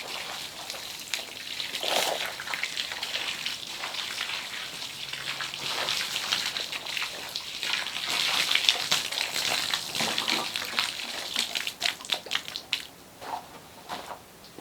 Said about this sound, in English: It will take all of this water, believe it or not.